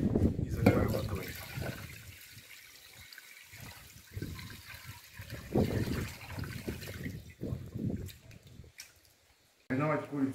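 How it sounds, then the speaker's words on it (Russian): Water poured into a container holding two whole chickens set to marinate for hot smoking, a close splashing and trickling stream that fades out, with a brief louder gush at the end. "и заливаем водой."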